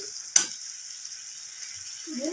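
Boiled potatoes drop into a frying pan of seasoned gravy with one sudden soft thump and a burst of sizzle, then a steady low hiss of frying continues. A voice speaks briefly near the end.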